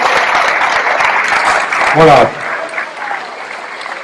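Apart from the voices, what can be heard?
audience applauding newcomers at a camper-van gathering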